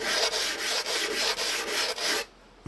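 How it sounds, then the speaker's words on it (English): Sandpaper rubs steadily across the covered leading edge of a model aircraft wing, close and loud, in even back-and-forth strokes that break off near the end. "Just letting the sandpaper do the work."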